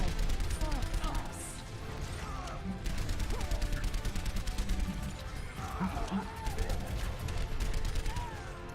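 Soldier 76's assault rifle fires rapid sustained bursts in an Overwatch match on Watchpoint: Gibraltar, dense rattling gunfire layered with game effects and ability sounds, with voices talking over the action.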